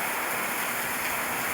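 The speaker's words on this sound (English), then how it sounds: "No, it's rain." Steady, dense rain pours down outdoors as a continuous close hiss with no pauses and no voices, holding an even loudness throughout.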